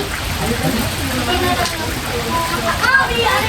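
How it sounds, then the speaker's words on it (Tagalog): Sudden rain shower on a mountain trip near a waterfall, a dense steady hiss of drops on surfaces lasting throughout, with people talking over it. "Biglang ulan."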